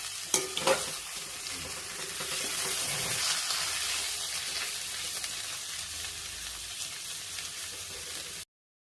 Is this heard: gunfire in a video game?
no